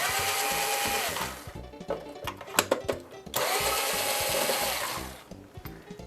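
A power screwdriver runs in several bursts while backing out deep-set screws from a Super Famicom Jr console during an RGB mod, a steady whirring motor with pauses and clicks between runs, close up with no talk.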